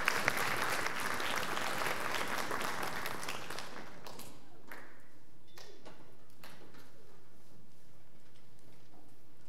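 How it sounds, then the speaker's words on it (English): Applause from the audience at a high school orchestra fall concert, a dense burst of clapping for about four seconds that thins into a few scattered late claps before fading to quiet. "So a round of applause for Professor Ligon."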